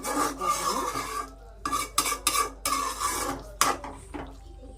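Noodles are stirred in a cooking pot, with a utensil making repeated close, rasping scrapes against the pot in uneven strokes separated by short pauses.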